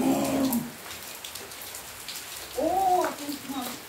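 Steady rain falls outdoors during a working day in the downpour, a soft continuous hiss throughout. Voices briefly talk over it at the start and again near the end.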